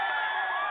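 A large crowd cheers and shouts at a political rally where people press against barriers, a dense, loud, continuous roar of many voices with no single voice standing out.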